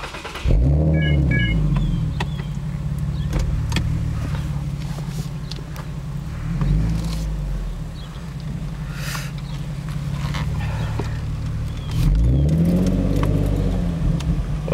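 A 2009 Infiniti G37S with an MXP exhaust, new B-pipes, Berk test pipes and a 7-speed automatic drives off, its exhaust droning loud and close with repeated rev swells rising and falling.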